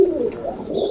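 Baku pigeons coo steadily and softly up close for a moment, a low continuous throaty murmur with no talking.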